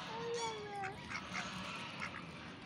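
Mallards and crossbred ducks quack and honk outdoors, a few moderately distant calls over a low background murmur with faint voices.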